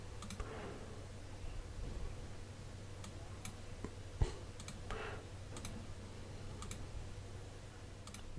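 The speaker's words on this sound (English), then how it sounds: "Sorry, I'm just typing this out quickly" Scattered keyboard clicks tap out in irregular bursts over a steady low hum, close and fairly quiet, with no voices.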